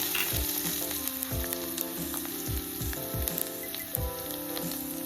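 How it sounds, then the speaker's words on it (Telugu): Dried red chillies and ground rasam powder sizzle in two spoons of hot oil in a pot, a close, steady crackling fry with repeated stirring scrapes and no voices. "గిన్నె పెట్టుకొని 2 స్పూన్ల ఆయిల్ వేసి ఎండుమిర్చి, మనం దంచి పెట్టుకున్న చారు పొడి"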